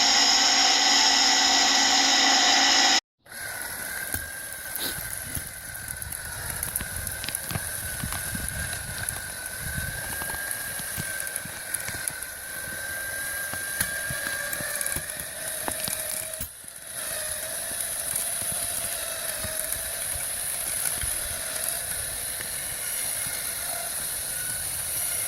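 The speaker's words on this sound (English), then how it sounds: "The grinder lowers onto the old stump" A giant tree stump grinder works an old stump, a steady grinding and whirring machine noise running continuously at moderate loudness, with a sharp high whine overhead and brief dips in intensity.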